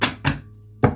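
Three short, dull thumps from a deck of oracle cards being shuffled and cut, two in quick succession and a third after a brief pause, close and clear.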